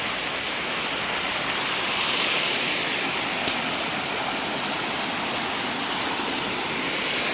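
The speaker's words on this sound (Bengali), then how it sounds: "এখন জল পড়ছে এখানে জল চলে যাচ্ছে" Rainwater rushes away in Kerala after a day of heavy rain, giving a loud, unbroken, close roar of flowing water like a stream or small waterfall, steady throughout with no speech.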